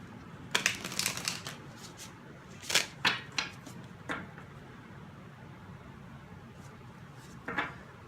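Tarot message cards being shuffled in a quiet room, a few scattered soft papery bursts with gaps between, close and fairly faint, no talking.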